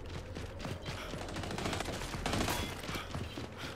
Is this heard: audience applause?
no